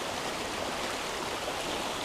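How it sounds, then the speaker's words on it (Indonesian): Murky river water flowing past the bank on a rainy day, a steady, broad, even rush of water with no voices. "kita bisa melihat air sungai yang mengalir ini"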